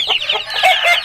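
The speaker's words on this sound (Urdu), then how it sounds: "خوبصورت سخت جان انتہائی اچھا اصیل مرغا ہے" An aseel fighting rooster with a yellow beak, a three-time winner, gives close, busy clucking and crowing-like calls in rapid bursts across the whole second, with no talk over it.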